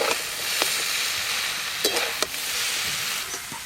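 Fried fish heads, from a 4 kg silver carp, stirred in a hot pan, giving a steady close sizzle with a few short scraping clatters of stirring, no voices.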